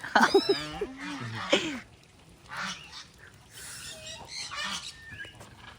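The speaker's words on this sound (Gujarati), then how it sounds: "હાલ અમે હંસ જોઈ શકો છો બધા બ્લેક હંસ છે અહીંયા" Black swans at a safari park give a quick series of wavering, nasal honking calls close by, then quieter scattered honks follow at a distance.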